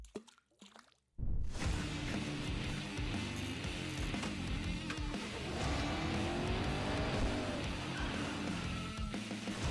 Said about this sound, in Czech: to je jako vzducholoď jeho, vesmírná, ale vlastně vydává zvuk jako auto